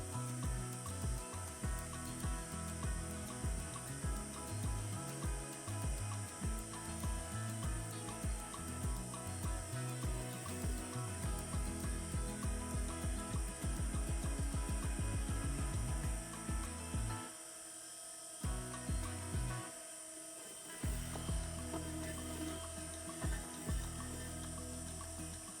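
A sewing machine stitches dress fabric for a puff-sleeved dress, a long run of close rhythmic mechanical clattering that speeds and slows, with two brief pauses near the end before the stitching picks up again.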